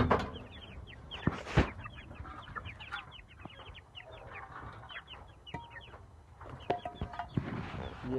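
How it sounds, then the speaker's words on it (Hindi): Young chicks in a pen chirp constantly in quick, high peeps, with occasional louder clucks and knocks nearby, in a busy farmyard background without speech. "ये हमारे मुर्गी के बच्चे हैं"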